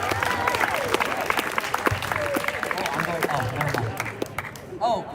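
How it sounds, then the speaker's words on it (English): An audience at a school athletic celebration claps and cheers after names are read, a busy, lively burst of applause with voices calling out over it before it tapers off near the end. "Applause."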